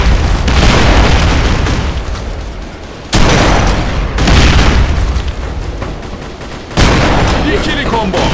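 Bombs explode in the video game District 187: repeated loud booming blasts with rolling, crackling decay, each sudden onset followed by sustained noisy rumble, about three big hits across the stretch.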